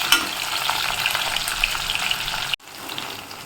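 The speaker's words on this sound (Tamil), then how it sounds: "வெங்காயம் ஓரளவு வதங்கிடுச்சு." Onions sizzle steadily in hot oil in a pan while being stirred, a continuous close frying hiss with faint utensil scrapes, cut briefly by a short pause near the end before the sizzle resumes.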